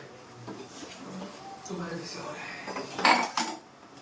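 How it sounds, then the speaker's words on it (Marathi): Metal pots, pans and cutlery clink and scrape while being scrubbed by hand, with a sharper clatter near the end, under a voice talking rhythmically over the washing. "घासा भांडी, घासा भांडी, घासा भांडी."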